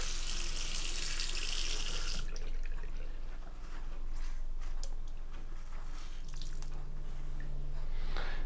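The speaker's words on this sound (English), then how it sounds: "I still feel a bit of bleach right here, so I'm gonna rinse that." Bleach being rinsed out of a white T-shirt under a running tap: a steady, close rush of water. It is loudest at first, then lower and splashier as the fabric breaks the stream.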